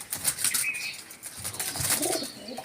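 Pigeons kept in a confined loft flapping their wings in quick, close bursts, with brief soft cooing mixed in; no voices.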